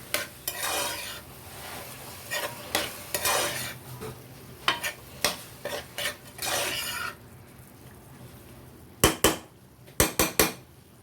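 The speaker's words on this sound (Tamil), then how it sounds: "ஸோ கிளறி விட்டுக்கலாம்." Peas being stirred in a cooking pot for rava kichadi, with repeated scraping strokes of a utensil against the metal and occasional sharp clinks toward the end, heard close with no talk.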